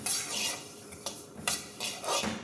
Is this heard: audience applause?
no